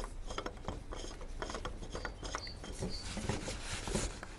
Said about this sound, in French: je remets ma pompe, je la visse